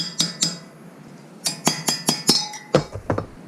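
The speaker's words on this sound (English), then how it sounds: "Use a chisel punch set to pry off this cap." A chisel punch taps and pries at a cap on a Toyota Tacoma differential during a regear, giving a run of sharp, close metallic clinks in quick bursts with short pauses between.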